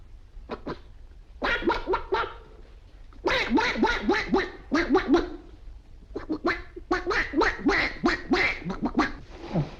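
A voice imitates a duck in the 1946 film Sherlock Holmes Dressed to Kill, producing rapid strings of nasal quacks in repeated bursts, close and lively.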